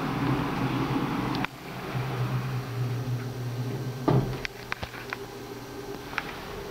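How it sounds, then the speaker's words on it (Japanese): Elevator doors at a shopping center slide shut with a low rumbling glide, then a soft thud and a few light clicks and taps as the car settles, all under a constant mechanical hum. "ドアが閉まります。"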